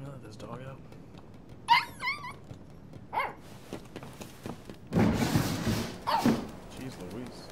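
Dog from the video game Life Is Strange 2 barks in short bursts and lets out higher whimpering yelps, scattered over several seconds amid game ambience, with a person's voice talking now and then.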